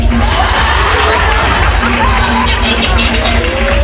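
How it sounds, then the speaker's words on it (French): A large crowd cheers and claps in a loud, continuous roar with mixed voices and babble, sustained evenly without a break. "Applaudissez pour lui."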